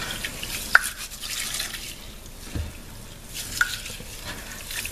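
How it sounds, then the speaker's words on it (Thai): Rice being washed and stirred by hand in water, with soft wet swishing, gentle grain rustle and a couple of small drips, quiet and close. "ซาวข้าวซาวข้าว"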